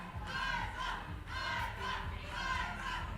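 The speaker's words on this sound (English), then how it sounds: "Do you hear that crowd? That is for you. Cheering you on, getting you hyped, and getting you ready." A crowd at a Minecraft Champions gaming event cheers and shouts in swelling waves, loud and sustained across the whole moment.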